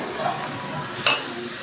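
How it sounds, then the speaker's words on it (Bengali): Washed fried lentils stirred into a pan of spices crackle with a brief sizzle, and a spoon scrapes once. "মশলার সাথে আমি ডালটাও একটু কষিয়ে নিচ্ছি।"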